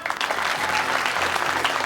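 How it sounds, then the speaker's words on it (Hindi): A crowd of students claps after a ghost-themed stage performance at a college event, with dense, even applause that fills the whole moment at moderate loudness. "आपकी तालियों ने इसका जवाब दे दिया है"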